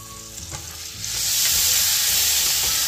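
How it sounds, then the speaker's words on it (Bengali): Lemon juice hitting a hot pan of butter-garlic fish, a quiet crackle that swells after a second into a loud, steady frying sizzle, with no voices. "এখানে 2 টেবিল স্পুন মতো লেবুর রস আছে।"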